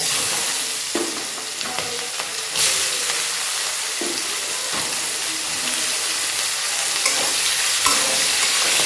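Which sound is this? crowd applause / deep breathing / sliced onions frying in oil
sliced onions frying in oil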